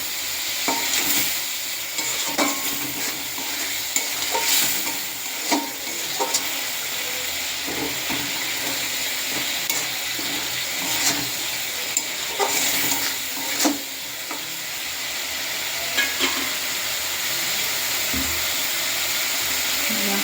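Chopped banana flower frying in hot oil in a pan while being stirred, with a continuous low sizzle broken by frequent scraping and clattering of the spatula, close and fairly quiet.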